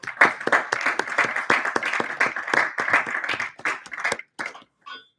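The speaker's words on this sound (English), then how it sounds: "Can I have a round of applause, please?" A tech panel audience gives a round of applause: dense clapping from many hands at moderate level, thinning into a few scattered claps before stopping near the end.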